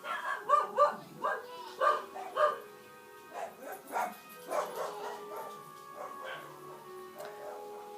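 Dogs in a house, five of them living there, let out a run of rhythmic barks and yips that grow fainter and more scattered, moderately close and unaccompanied by talk.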